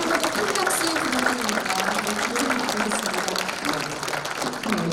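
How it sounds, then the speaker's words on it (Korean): Audience applause at a Korean book launch event, a dense sustained clapping wash filling the room with murmuring voices and a faint tonal sound running underneath throughout. "다시 한번 큰 박수 부탁드립니다"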